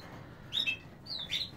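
Canaries in a breeding room give two short, bright chirps close by over a quiet background hum, with no voices.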